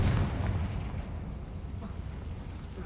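A Confringo spell blast in the game Hogwarts Legacy: a loud, rumbling explosion that hits at once and then fades into a long, dense roar with no talk over it.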